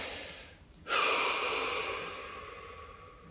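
A slow, deep breath taken during a guided muscle-relaxation exercise: a brief pause, then a strong, close airy inhale or exhale that swells suddenly and fades gradually over a few seconds, with no talking.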